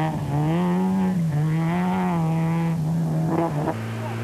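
A 1993 Rally Tour of Cornwall rally car runs a little deep into a chicane, its engine loud and close with a sustained high rev that dips, recovers, then drops sharply near the end as it shifts down.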